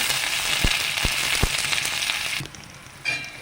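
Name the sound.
frying garlic, ginger and curry leaves in oil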